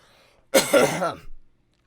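A single harsh cough burst, close and fairly loud, trailing into a shorter second rasp before silence.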